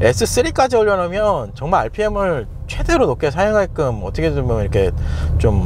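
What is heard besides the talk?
No everyday noises stand out.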